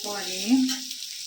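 Ginger and garlic frying in a pan, a steady close sizzle holding evenly throughout with a brief tonal scrape or stir partway.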